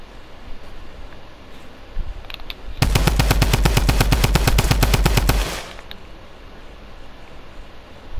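Automatic weapon fire in the Fortnite video game, a loud sustained rapid burst of about three seconds with sharp repeating shots, preceded and followed by quieter background ambience.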